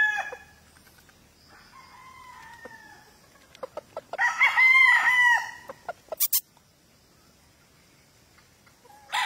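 A gamefowl rooster, a Kelso cross with black, crows loudly and close by, a long harmonic call in the middle, with scattered clucks and farmyard clatter before and after.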